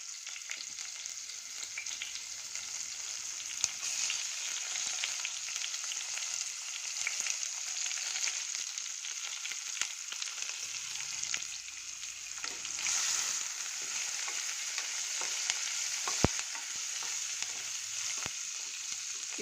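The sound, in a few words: onion, green chilies and curry leaves frying in a pan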